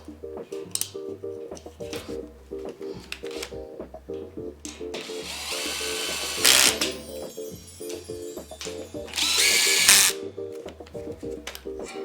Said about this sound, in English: Using a drill makes it faster.